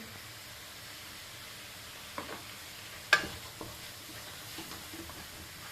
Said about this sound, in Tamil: பீன்ஸும் கேரட்டும் பச்சை மிளகாயும் போட்டிருக்கிறேன். நல்லா வதங்கட்டும்.